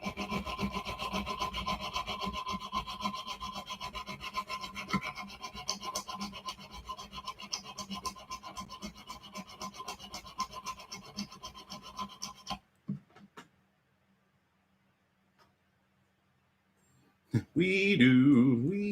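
Close, steady back-and-forth rasping of a file shaping a piece for inlay runs continuously for about twelve seconds, then stops into near silence before a brief clatter at the end.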